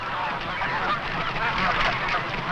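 Captured wild geese honk and call in a dense, overlapping chorus, continuous and fairly near, with a low rumble beneath.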